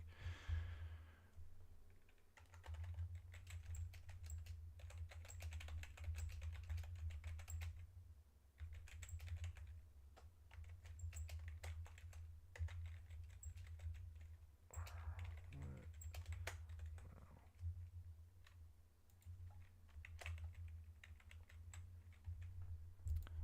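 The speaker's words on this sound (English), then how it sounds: "let me pause this real quick so I can type this up real quick" Steady typing on a computer keyboard, rapid clicky keystrokes in bursts over a low constant hum, with an occasional sigh or breath and no clear speech.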